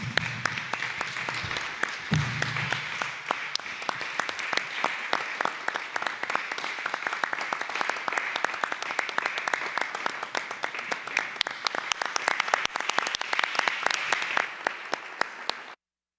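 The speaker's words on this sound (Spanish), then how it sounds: "Un aplauso, por favor, para el maestro Víctor Valvanera." Sustained audience applause at a tribute ceremony, many hands clapping steadily and evenly for about fifteen seconds before cutting off abruptly, with a brief low thump near the start.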